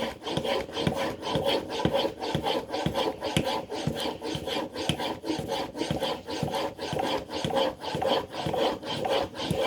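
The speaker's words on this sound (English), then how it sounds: "natural oil stones, hard Arkansas stones, they will wear you out sharpening" A steel blade honed on a hard Arkansas natural oil stone, giving a steady back-and-forth rasping scrape in even, rhythmic strokes, close and clear with no talking.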